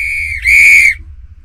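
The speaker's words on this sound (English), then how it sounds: "Just what I needed, a new whistle!" A brand-new coach's whistle gives one loud, shrill blast lasting about half a second, preceded by a steadier whistle tone and set against a low background hum.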